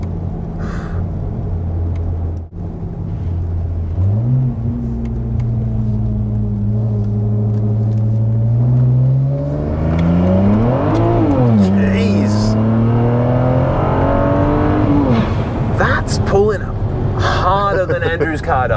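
A BMW 335i with the N54 engine accelerating hard through the gears in a mock roll race, its exhaust rumble rising and climbing in pitch from inside the cabin, with people talking over it.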